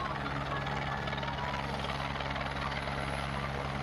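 A helicopter making an emergency landing on Kalve Road in Palghar after a technical fault drones loudly and continuously, its rotor chop and engine whine steady and close.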